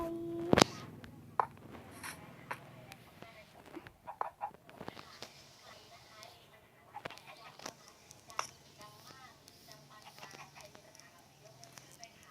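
Chickens on a chicken farm cluck and squawk intermittently amid scattered knocks and rustling, with a sharp squawk near the start and someone talking in the background.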